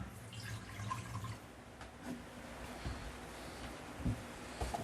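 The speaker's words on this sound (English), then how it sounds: "And I'll just put in a cup of water." A cup of water poured into a pressure cooker fitted with a small stand; quiet trickling and dripping, faint and close, with soft knocks from the pot.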